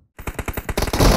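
Automatic gunfire in the battle game PUBG during a team deathmatch, a loud rapid burst of evenly spaced shots building into a denser, heavier roar over about a second.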